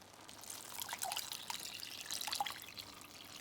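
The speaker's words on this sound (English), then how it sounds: "We're going to go in with our 2 more cups of water now." Warm water poured into a pot of cooking rice, heard as a faint, close trickling and splashing that swells and eases over a few seconds, alone without voices.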